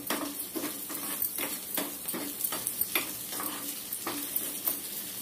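Urad dal, with some husked split lentils, dry-roasting in a pan, giving a steady soft sizzling crackle with stirring scrapes and light clinks, close and alone without talk.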